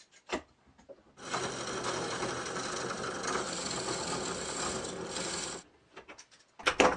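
A homemade lathe runs on its pulleys and V-belt, giving a steady whirring mechanical rumble for several seconds, framed by a few sharp clicks and knocks before it starts and after it stops.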